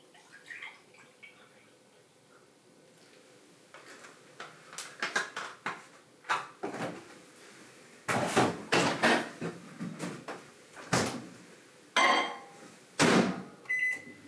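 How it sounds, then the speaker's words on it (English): Microwave oven heating a cup of warm milk hums faintly at first, then gives a series of loud clicks, clunks and beeps from the door and controls, close by in a kitchen. "Microwave this."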